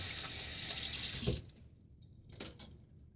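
A teaspoon rinsed under a running tap during a shaving routine: steady splashing water for over a second, then the tap stops and a few faint metallic clinks and drips follow, close and quiet.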